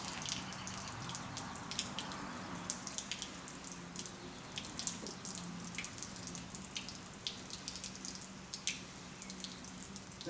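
Water runs from a car radiator during a coolant flush, a steady splashing trickle with scattered drips, moderately close and without talk.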